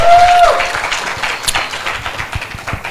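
Audience applause at a multi-day professional development event, a steady wash of clapping throughout with a brief whistle-like tone near the start.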